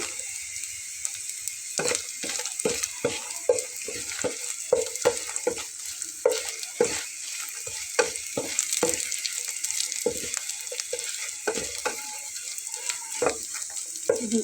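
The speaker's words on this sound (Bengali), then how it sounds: "শুটকি মাছটা এভাবে ভাজা হতে থাকবে, সেই সঙ্গে আমি শুকনো মরিচটা দিয়ে নেব।" Dried fish fries in hot oil with dried chilies, giving a soft steady sizzle broken by irregular scraping and clattering stirs against the pan, close and moderately quiet, with no talk.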